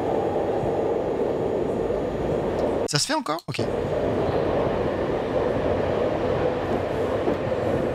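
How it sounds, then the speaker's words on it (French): Paris metro train running with a steady broadband rumble throughout, a short dip and a brief speech burst partway through, and a voice speaking over the train noise. "C'est le métro parisien."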